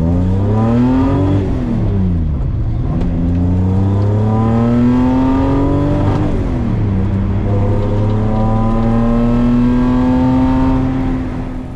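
A Datsun 280Z hot rod engine revving up and down repeatedly, loud and close, with rising and falling pitch swells, then holding a steady high note, no talk.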